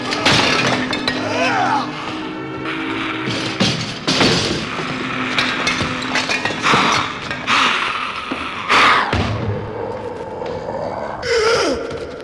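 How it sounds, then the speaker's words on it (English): A monster smashing up a laboratory in a Frankenstein vinyl record drama, a long run of crashing, shattering and clanking mechanical noises, loud and dense, with gasps and a voice mixed in. "And then angrily it began smashing the"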